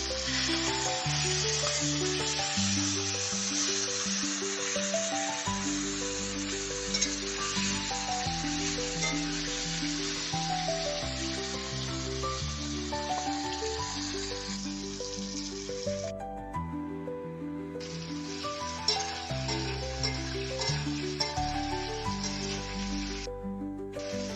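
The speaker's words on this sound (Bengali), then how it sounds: "এবার চিংড়ি মাছগুলোকে তেলের মধ্যে দিয়ে 2 দিক উল্টে পাল্টে ভালো করে ভেজে নেব।" Prawns frying in oil in a kadai while being turned on both sides for a Bengali potol chingri dish; a steady bright sizzle runs throughout beneath louder background music.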